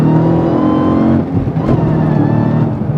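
A Hennessey HPE1000 Dodge Hellcat kit car accelerating onto a South Florida highway in cool weather, its engine roaring loud and close with rising revs, a brief dip, then strong pull again.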